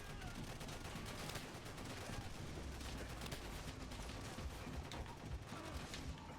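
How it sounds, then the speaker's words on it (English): Gunfire in Call of Duty: World at War sounds faint and distant, with muffled shots crackling beneath a dense, noisy battle wash that never lets up. "Who is shooting me?"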